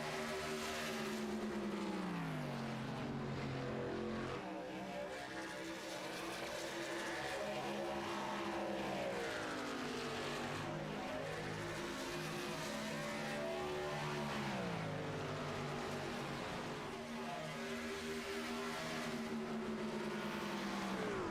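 Racing trucks circulating on a racetrack during the HTL Kansas 250, a steady roar of engines rising and falling as they pass, loud and continuous throughout with no talk.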